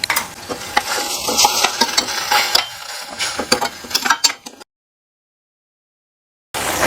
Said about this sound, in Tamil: ஃப்ரெண்ட்ஸ் மசாலா நல்லா கொதிக்குது